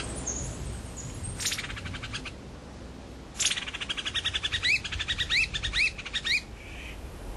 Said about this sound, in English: the piercing whistle of the Taiwan laughing thrush resounds from the forest